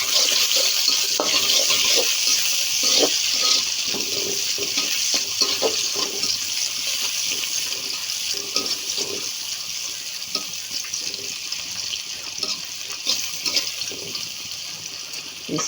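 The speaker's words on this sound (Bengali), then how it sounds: "পেঁয়াজটা আমাদের ভাজা ভাজা হয়ে গেছে" Onions frying in a pan for a bitter gourd dish, a steady close sizzle with occasional stirring clicks and scrapes running throughout, no talking.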